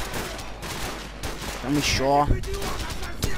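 Several gunshots crack in Call of Duty 4: Modern Warfare, sharp reports in a short cluster under game voices and someone talking briefly.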